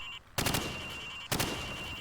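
Two loud bursts of automatic gunfire from the video game Call of Duty 4: Modern Warfare, each a rapid rattle of shots, with a steady background hum between them.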